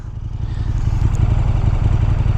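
A 2015 KTM 1290 Super Duke R motorcycle pulls hard in second gear, its steady low engine drone loud and close throughout, with wind rumble mixed in and no talking.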